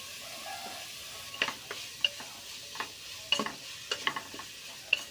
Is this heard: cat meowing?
no